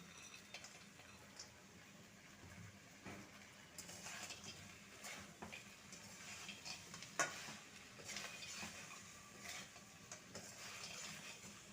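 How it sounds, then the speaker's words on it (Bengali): A spoon stirs fried lentil dumplings into bitter gourd curry with potato and eggplant, producing faint, soft scraping and gentle sizzling in irregular strokes, with occasional light clicks against the pan. "আবারও ভালো করে মিশিয়ে নিলাম"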